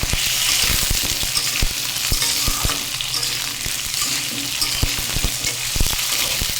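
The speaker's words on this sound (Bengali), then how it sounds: "সবজিটাকে ভালো করে ভেজে আমি ডালে দিয়ে দেবো" Vegetables frying in oil in a pan for a lentil dal, a loud continuous sizzle with frequent clicks and knocks of stirring, close up and without voices.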